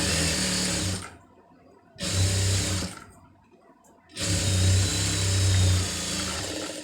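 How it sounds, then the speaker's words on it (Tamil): A sewing machine stitches a lined blouse in three loud bursts of steady whirring, separated by short quiet pauses, with no talking. "இதில் வந்து தையல் வந்து போட்டுருங்க நல்லா விட்டு தையல் வந்து கரெக்டாக போட்டுருங்க"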